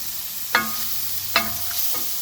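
Vegan lettuce wrap filling of mushrooms, chickpeas and black beans being mixed in a pan, with three short scraping stirs spaced about a second apart over a faint steady background hiss.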